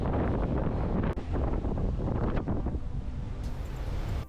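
Strong wind in New Zealand buffets the microphone in loud, rumbling gusts, with a brief knock partway through and the roar easing slightly near the end.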